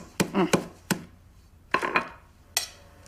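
Cookies and honeycomb being crushed with a rolling pin inside a freezer bag: a handful of sharp, close thuds and crunches in two short bursts, with quiet pauses between.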